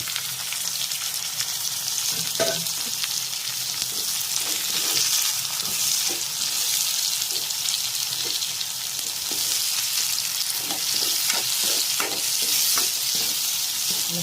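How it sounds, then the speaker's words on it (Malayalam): Chopped capsicum is stirred into nearly browned onions frying for a chicken curry, with a steady close sizzle and repeated scraping stir strokes, no voices. "ഇനി നമ്മൾ അരിഞ്ഞു വെച്ചിരിക്കുന്ന ക്യാപ്സിക്കം അതിനകത്തോട്ടിട്ട് ഇളക്കാം"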